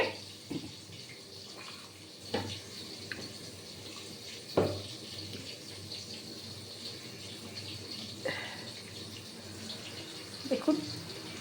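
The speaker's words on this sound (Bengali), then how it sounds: "এই জল দিয়ে দিলাম" Water poured into a pot of pointed gourd curry, a soft running pour with a few sharper knocks of the vessel, faint and close in a quiet kitchen.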